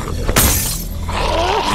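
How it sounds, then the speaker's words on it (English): Car window glass shatters in The Walking Dead video game, broken with a spark plug: one sudden loud crash with a bright spray of fragments, followed by tense game ambience and a low groaning tone. "Boom! Glass broke."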